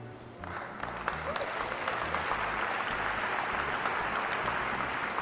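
A large audience at the Wii U console announcement by Nintendo of America president Reggie Fils-Aimé begins clapping after a brief pause, then swells into steady, sustained applause.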